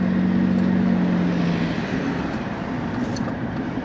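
Rolls Royce Phantom fitted with a swapped BMW M57 diesel engine, straight-piped with the exhaust valve open, drones with a steady low rumble while cruising, heard continuously from inside the car.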